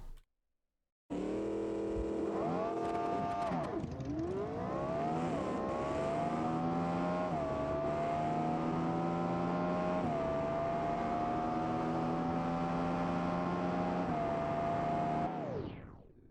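A race car engine in the BeamNG driving game revs and accelerates steadily, a loud continuous whine that climbs after a brief dip and holds high before cutting off, with no talk.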